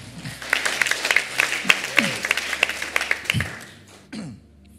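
A church congregation claps during a Sunday worship service, sparse and uneven hand claps rising and thinning out, with scattered voices and murmurs mixed in before trailing off near the end.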